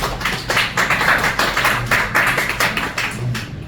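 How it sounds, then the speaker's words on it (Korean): Audience applause at a lecture forum: dense, steady clapping from a crowd lasting several seconds, fairly loud and close, with no voices over it. "박수 한번 부탁합니다"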